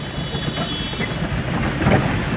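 Steady rain pours down on a hill road while vehicles creep down a slope in fog and roadworks, a dense, even hiss throughout with a low rumble beneath it.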